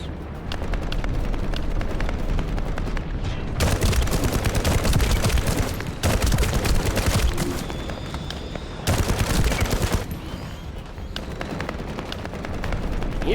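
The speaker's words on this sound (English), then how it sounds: "hear other people shooting" Bursts of gunfire from other players in The First Descendant roll through in dense, loud volleys, with a quieter stretch near the end and no talking.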